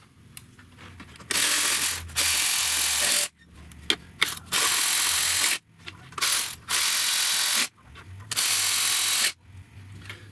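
Bracket screws on the engine of a 2014 Toyota Highlander Hybrid are tightened with a ratchet, which gives loud, close bursts of rapid clicking in several separate runs with short pauses between them.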